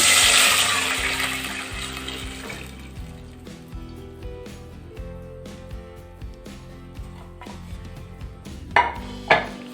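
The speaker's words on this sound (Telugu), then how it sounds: "ఇప్పుడు మనం ఈ పాలను పోసేసుకుందాం." Milk pours into a pan of hot ghee for halwa with a hissing, bubbling sizzle that fades over several seconds, followed by a few clinks of a utensil against the pan.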